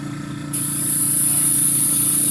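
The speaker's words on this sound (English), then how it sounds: "the trick to shooting 2K is just spraying it until it builds up enough to turn shiny" A spray gun shoots 2K clear coat onto a car body, a steady close hiss that switches on abruptly and holds loud and even over a low hum, with no one talking.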